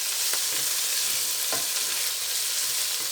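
Tomatoes and ginger fry with potato and eggplant in a hot pan, a steady close sizzle broken by a few sharp stirring scrapes, with no talking.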